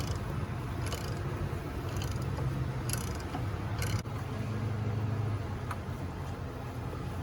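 Ratcheting and metallic clicking from a wrench loosening the bolt that holds the fuse box on a 2005 Nissan Altima, steady and close with intermittent short bursts.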